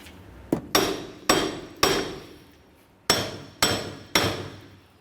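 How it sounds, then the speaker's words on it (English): Hammer blows driving a front wheel hub off the steering knuckle of a 2004-2010 Chevrolet Cobalt: seven sharp metallic bonks, two quick, then a pause before three more, each ringing briefly. "We're going to give this a couple loving bonks and try to drive it away from the knuckle."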